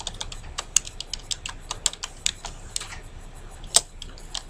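Keys clack on a computer keyboard in a quick uneven run of crisp taps, close and fairly quiet over a faint background hiss, with no speech.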